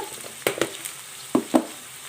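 Spinach quiche filling with black pepper and salt being stirred in a bowl, a few soft wet clacks and scrapes in quick pairs over quiet background.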